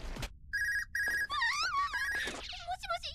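A telephone rings in an anime episode, with repeated steady electronic ring bursts followed by warbling tones, loud and alone without talk.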